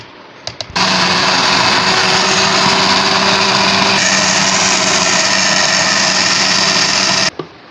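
A kitchen blender mixes mango paste with fresh cream for homemade ice cream, switching on with a couple of short pulses, then whirring loud and steady for several seconds before cutting off, its pitch shifting slightly midway.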